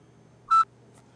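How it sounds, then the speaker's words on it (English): A single short electronic beep of a barcode scanner, bright and clear over a quiet background, followed by a faint tiny click. "You can hear the beep when it scans."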